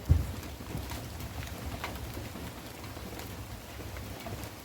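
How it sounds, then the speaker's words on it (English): Steady rain falls outdoors around a zero-turn mower, a continuous soft patter that stays even and moderately loud throughout, with no talk. "it's still raining, but sometimes I work in the rain"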